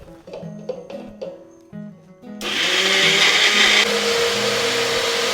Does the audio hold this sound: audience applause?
no